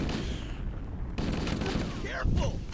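Rapid machine gun fire from Halo: Combat Evolved rattles in dense bursts, mixed with game effects and a brief spoken exclamation over the battle noise.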